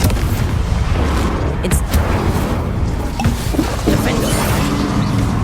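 Bombarda and Confringo spell blasts in the Hogwarts Legacy video game on PS5, a loud continuous barrage of booming, crashing impacts that overlap one another throughout without a pause.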